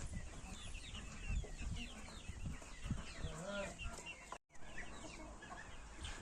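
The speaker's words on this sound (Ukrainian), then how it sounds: "Курчата бігають, ловлять мушок, комашок, метеликів." Hens cluck and chicks peep nearby in a busy, overlapping chorus, with soft scratching sounds and a brief dropout near the end.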